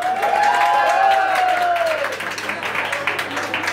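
Audience applause voting for a contestant on a music show stage, a dense crowd clapping throughout, with a sustained cheering or whooping voice rising above it early on.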